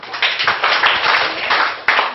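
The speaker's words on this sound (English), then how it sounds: "So a big clap for the proposition." A debate audience claps together, bright rapid hand claps forming a continuous patter that holds steady for a couple of seconds.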